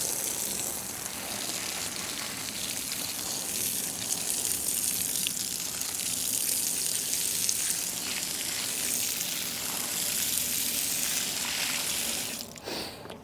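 Water gushes steadily onto freshly packed dirt and rock around a newly planted tree in Loreto, Mexico, a continuous close splashing hiss that runs unbroken for several seconds before cutting off near the end.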